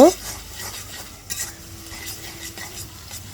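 Chopped onions fry in oil in a kadai over a clay stove for duck meat curry: a close sizzle with brisk scraping stirs and a metallic clink near the start.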